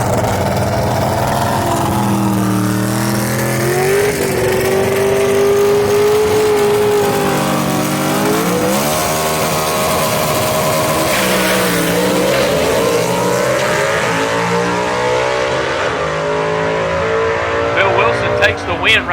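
Gasser drag race cars, including a 1963 Chevy II, roar loudly down the strip at Knoxville Dragway, engines rising in pitch through the gears while a commentator talks over them.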